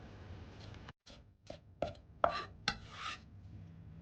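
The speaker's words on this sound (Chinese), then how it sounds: "大葱少许切成葱花" Scallions being chopped with a knife on a board, a handful of separate, irregular thuds spaced across a few seconds, fairly quiet and with no voices.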